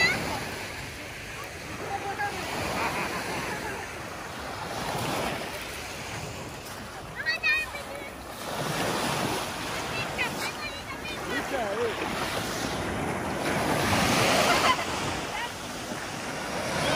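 Adriatic Sea waves wash and break on the shore in slow surges, mixed with wind rumble against the microphone and faint voices in the background.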